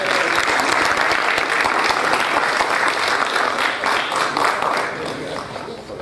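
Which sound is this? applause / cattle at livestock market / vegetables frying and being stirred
applause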